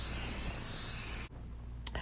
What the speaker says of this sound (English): I'm going to coat it with nonstick cooking spray